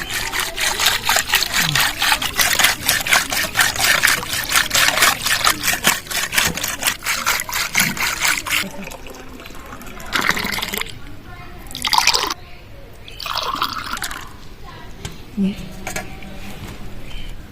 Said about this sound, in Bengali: বিট নুন দিয়ে দিলাম এই কাটার সাহায্যে ভালো করে ঘুটে নেব এইভাবে